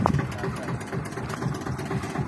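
An Eicher garbage-hauling tractor idles close by, its diesel engine giving a steady, low, rhythmic throb that stays even throughout.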